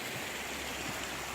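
A clear stream flows in the Peak District, a steady close rush of water, soft and unbroken.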